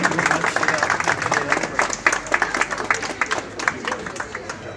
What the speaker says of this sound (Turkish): bir alkış alıyorum